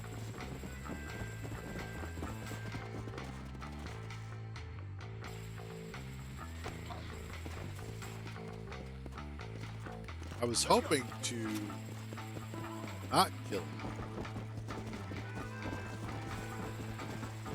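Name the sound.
horse hooves clip-clop in a video game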